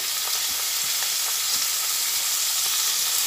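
Chopped onions fry in hot oil in a wok with a steady, loud, close sizzle and faint intermittent clicks of stirring, without any talking.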